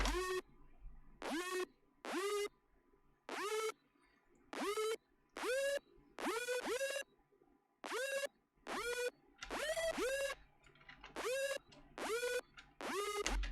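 A harsh, buzzy synth lead plays a choppy riff of short, repeated stabbed notes with brief gaps, loud and upfront with no voices.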